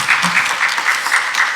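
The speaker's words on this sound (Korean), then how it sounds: "박수해 주십시오." A church congregation at a Sunday worship service in a Presbyterian church claps together, producing steady, moderately loud applause with a slight rhythmic pulse, heard close for under two seconds.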